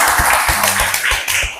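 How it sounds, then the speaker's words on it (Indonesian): Students clap for classmates who answered a question during a classroom lesson, producing a brief burst of scattered, close claps with uneven rhythm over a steady room background. "tepuk tangan untuk yang sudah bisa menjawab"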